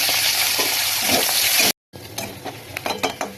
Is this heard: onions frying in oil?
yes